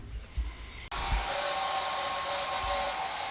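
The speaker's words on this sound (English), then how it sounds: "We're going to blow dry them." Hair dryer blow-drying newborn goat kids just after birth, switching on abruptly after a moment of soft background sounds and then blowing as a loud, steady close-up rush.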